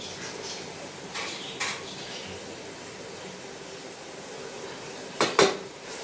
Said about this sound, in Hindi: तो दाल को 3-4 मिनट के लिए अच्छी तरह भूनेंगे।